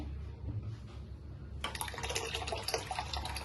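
Milk poured from a vessel into a pan for fruit custard, a steady splashing liquid stream starting partway in and running on close and fairly loud over low background hum.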